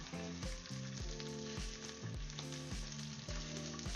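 Loud, steady sizzling of boneless stuffed quail searing on a barbecue, continuous crackle with a melodic tune playing faintly underneath.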